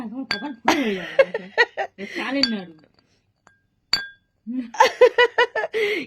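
Several hard, sharp clinks as small, very hard naru sweet balls knock against each other and a dish, in quick bursts separated by pauses, close by.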